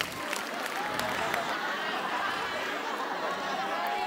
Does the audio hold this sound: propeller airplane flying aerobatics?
no